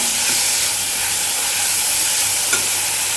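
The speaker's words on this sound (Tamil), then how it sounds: "இப்போ வந்து வெங்காயமும் கருவேப்பிலையும் சேர்த்துப்போம் சேர்த்து நல்லா வதக்குவோம்" Onions and curry leaves sautéing in a pan with fennel seeds, a steady loud sizzle and hiss running throughout, with a faint stir or scrape near the end.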